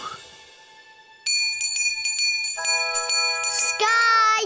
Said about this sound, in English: Bobo ring bell!